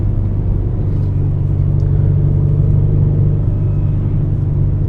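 Steady loud low rumble of a car engine under light throttle while driving on an open road, heard from inside the cabin, constant and unbroken with no voices.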